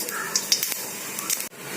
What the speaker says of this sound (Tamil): எண்ணெய் காஞ்சிடுச்சு, கொஞ்சம் கடுகு போடுறேன்